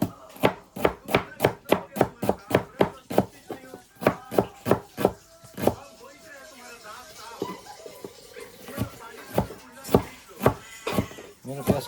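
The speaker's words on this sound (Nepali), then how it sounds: "अब जस्ट प्याज कटिङ गर्नुपर्ने छ।" Onions being chopped on a board with a knife: a fast, even run of sharp close chops, a short pause, then slower, more spaced strokes, with a voice talking faintly underneath.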